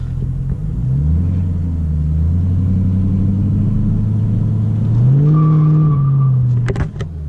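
A 2005 Ford Mustang GT with an automatic transmission does a burnout to warm its tires, its V8 rumbling loud and close as revs rise and hold, with a brief tire squeal near the end.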